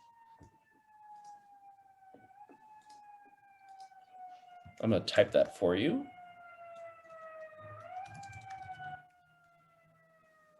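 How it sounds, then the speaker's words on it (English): A wailing emergency siren passes at a distance, rising and falling steadily, while a person speaks briefly over it. "Got a little siren coming behind me, if that's what you're hearing."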